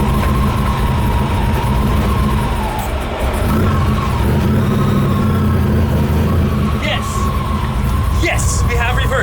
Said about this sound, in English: All right, let's start the car and see if it works this time.